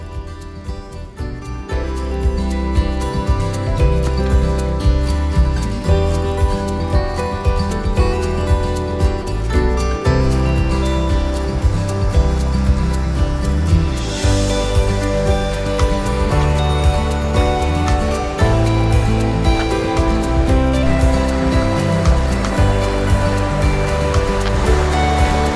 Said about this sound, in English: there's the secret waterfall